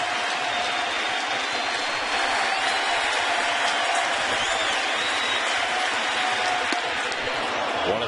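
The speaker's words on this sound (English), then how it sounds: "This crowd on its feet, boy, they're into it." A baseball stadium crowd on its feet at a Phillies versus Mets game, cheering and clapping in a steady, dense roar that holds evenly at a distance, with an announcer's voice faintly underneath.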